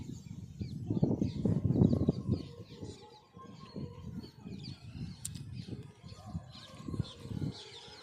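A white-breasted waterhen gives a run of loud, repeated throaty calls and clucks, rising and falling in bursts, fairly close, with faint chirps in the background.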